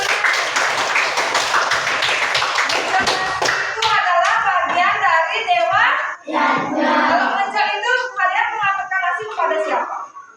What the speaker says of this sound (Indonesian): Ya, kasih tepuk tangan teman.